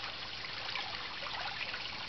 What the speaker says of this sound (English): And here we have my stream. Comes from the upper pond and from the dock biofilter.